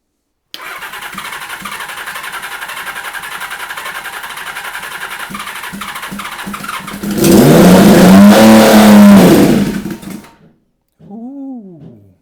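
A Kawasaki Z1300 custom motorcycle engine cranks and then catches, rising into a loud, close rev burst before dying away. A short second rev follows after a brief pause.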